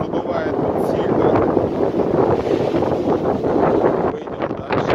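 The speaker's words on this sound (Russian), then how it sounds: "Ветер, конечно, задувает сильно." Strong wind buffets the microphone on a cliffside trail with stone steps above sheer rocks at Novy Svet in Crimea, a loud, continuous roar that swells and eases slightly but never lets up for the whole stretch.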